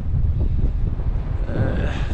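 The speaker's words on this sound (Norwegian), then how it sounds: "Begynt å regne litt og blåse skikkelig hardt. Det kommer sånne vindkast som er ganske heavy." Strong gusty wind buffets the microphone outdoors beside a mountain watercourse, with light rain falling, a steady loud roaring rumble that swells into a harder gust near the end.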